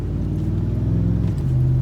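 A 10th-generation Ford F150 truck engine with an SCT X4 custom tune runs under light throttle, making a steady, close, deep rumble that rises slightly near the end, with no talking.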